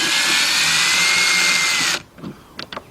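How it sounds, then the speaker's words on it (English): Cordless drill spinning a T20 Torx socket to back out BMW X5 door screws, a loud continuous high whine for about two seconds, then cutting off, followed by a few faint clicks and handling knocks. "I got my T20 Torx socket attached to my cordless drill"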